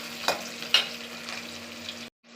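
Shallots sautéing in a pan for fish curry, a soft steady sizzle broken by a couple of stirring scrapes, quiet and close, ending in a brief cut.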